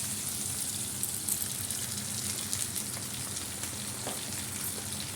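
Tomatoes and garlic sizzle in a hot frying pan for a dish of mustard greens, bathua and spinach, giving a steady, close crackling hiss throughout with no talking.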